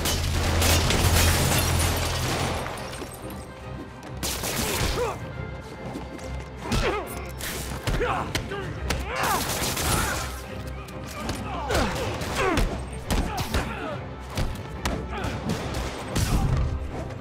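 Gunfire and heavy impacts crack out in Marvel's Spider-Man Remastered as thugs shoot during a fight, with sharp bursts, smashes and thuds in quick irregular succession and brief character voices between them.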